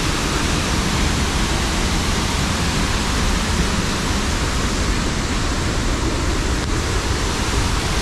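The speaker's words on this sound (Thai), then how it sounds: "จะมีละอองนะละอองน้ำขึ้นมาช่วงนี้จะมีน้ำไหลเนาะจะงดงามเลย" Tad Yueang waterfall in Pakxong pouring with rising spray, a constant loud broadband roar of falling water, unbroken and close, with no voices.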